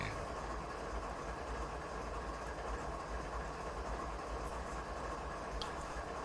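Train in the Canadian Mountain Pass route of Train Simulator 2019, a steady, faint rumble of rolling rail cars and engine noise continuing throughout without speech.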